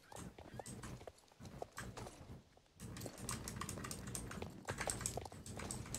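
Horse hooves clip-clopping in the video game Scarf, a steady rhythmic patter of soft game footsteps running through the clip at moderate loudness with no talk.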